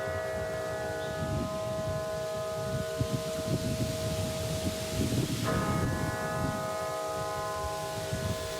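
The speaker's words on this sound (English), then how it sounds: "The bell inside the National Cathedral in Washington today ringing 700 times." The large bell of the National Cathedral in Washington tolls, its deep strikes blooming into long, sustained ringing tones that overlap and fade, with no voices present.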